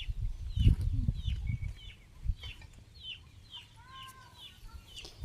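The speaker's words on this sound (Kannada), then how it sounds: "ತಿಪ್ಪೆ ಕೆದಕ್ತಾ ಇರುವಂಥ ಕೋಳಿ ಮರಿಗಳು." Young chicks pecking and scratching at a farmyard dung heap, giving soft clucks and brief high chirps scattered across the clip, fairly close, with rustling and scuffing underneath.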